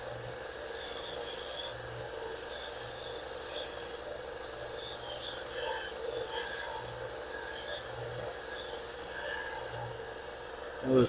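A wood lathe turns a wooden handlebar grip for a Gravely Model L garden tractor as a tool takes the sharp edge off, giving repeated raspy scraping strokes in bursts over a low, steady motor hum.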